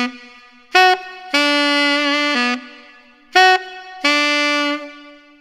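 Solo tenor saxophone plays the first phrase of a song's hook: a short note, then a long held one, repeated twice, clear and close with no talking.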